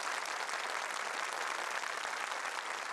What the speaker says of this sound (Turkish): Tekraren kendilerini alkışlayarak sahneden uğurluyoruz